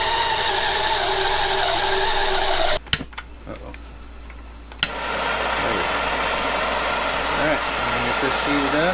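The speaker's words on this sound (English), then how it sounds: "I decided to just use the torch" A torch heating a fitting on a homemade solar-heated pressurized water tank: a loud, steady roaring hiss that cuts out for a couple of seconds with a few clicks, then roars back on, heard close.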